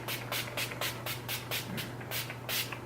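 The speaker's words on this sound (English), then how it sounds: "This is Jeffree Star Pussy Whipped setting spray." Jeffree Star Pussy Whipped makeup setting spray gives a quick run of short, soft hisses, about a dozen rapid pumps in an even rhythm, close and fairly quiet.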